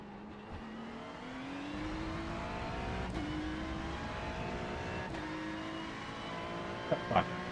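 An AMG race car in a racing video game accelerates hard, its engine note climbing through the gears with brief shift breaks, steady and fairly loud, with a short voice near the end.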